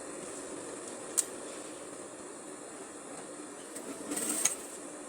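A sewing machine stitches the side seams of tailored shorts, joining front and back fabric pieces: a steady, low whirring hum with faint hiss and a couple of sharp clicks. No talking.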